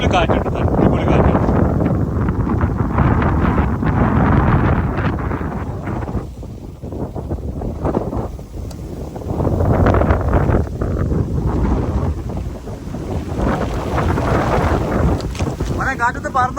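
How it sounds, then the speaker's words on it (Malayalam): Strong wind on the Ponkunnu hilltop in Kozhikode, roaring and buffeting the microphone in continuous heavy gusts that swell and ease over the whole stretch. "അടിപൊളി കാറ്റുണ്ട്, അടിപൊളി കാറ്റുണ്ട്."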